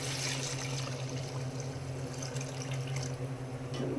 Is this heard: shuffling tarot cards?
no